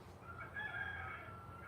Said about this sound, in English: there's a rooster over here on the neighbor's property, and I think there's a rooster right up here on our property that are just, they're cock-a-doodle-doing back and forth